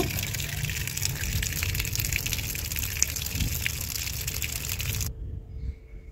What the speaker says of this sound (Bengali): এরপরে আমি আলুগুলোকে কলের জলে ধুয়ে নেব, ভালো করে পরিষ্কার করে ধুয়ে নেব।